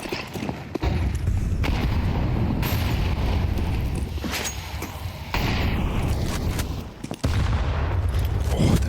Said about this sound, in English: Oh, the nades are brutal.